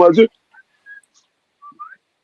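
A short burst of speech, then a few thin, faint whistled tones spaced apart, like someone softly whistling single notes.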